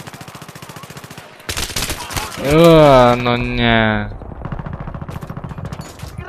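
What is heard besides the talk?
gunshots in a video game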